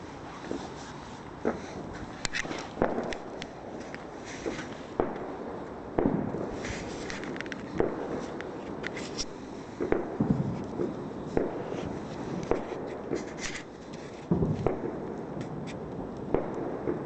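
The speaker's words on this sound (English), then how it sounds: "So now the fire's got pretty big." A bonfire on bonfire night burns with continuous crackling and sharp pops scattered irregularly over a steady roar, fairly close, with no speech.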